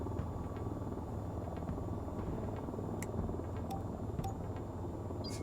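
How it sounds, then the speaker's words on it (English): Helicopters in the VTOL VR flight game make a steady, dense rotor rumble and hum that holds at an even level throughout, with a few faint clicks and chirps scattered on top. "Unknown helicopters have breached the border"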